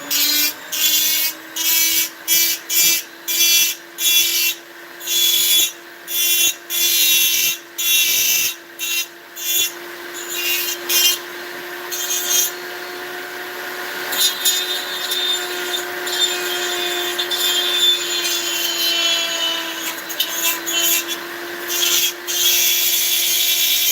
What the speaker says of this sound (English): now we're going to need to dremel that shell a bit